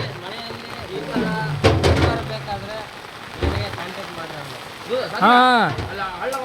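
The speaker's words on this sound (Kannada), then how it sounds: "ಮಳೆ ಬಂತಲ್ಲೋ" Steady rain patters throughout while people talk close by at an outdoor wedding turmeric ceremony, with a few louder vocal bursts rising over the downpour.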